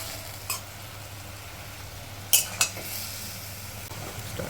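Spinach being stirred with fried eggplant in a pan, a low sizzle under a few sharp scrapes and clinks of a utensil against the pan.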